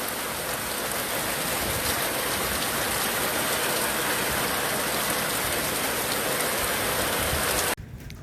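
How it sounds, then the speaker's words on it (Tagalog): Heavy rain pours down steadily, a dense, loud hiss of drops on surfaces that fills the whole scene before cutting off abruptly near the end. "biglang bumuhos yung ulan."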